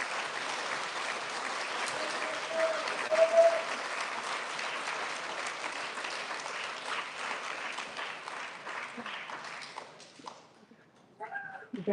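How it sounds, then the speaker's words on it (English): Audience applause for a third grader at an elementary school student recognition, steady clapping that fades out near the end, followed by brief voices. "Big round of applause for our third grader."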